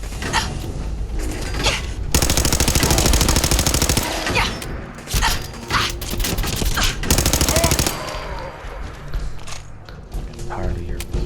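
Bursts of automatic gunfire in Fallout 4, loud rapid rattling volleys of minigun-style fire separated by short pauses and single shots, with someone talking in between.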